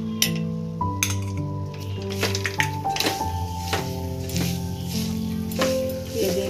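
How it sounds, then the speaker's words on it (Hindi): Jaggery melting in a pan over low heat as it is stirred and broken up with a spoon, giving repeated metallic clinks and scrapes over a steady background tone. "चलाते हुए हम इसको फोड़ते जाएंगे और स्लो गैस पर को मेल्ट करना है।"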